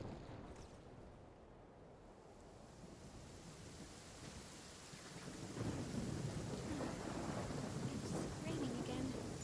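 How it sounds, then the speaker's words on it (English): Rain falls steadily with low rumbling thunder, the storm swelling louder partway through and continuing as a broad wash of noise. "Raining again."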